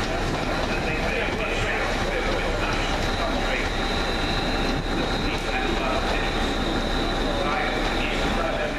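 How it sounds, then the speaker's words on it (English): A London Midland passenger train pulls into Crewe station on its service from Birmingham New Street to Liverpool Lime Street, with steady broadband rumble and wheel noise throughout and a faint high squeal running over the rolling sound. "Coming in the 11:57 London Midland service from Birmingham New Street to Liverpool Lime Street."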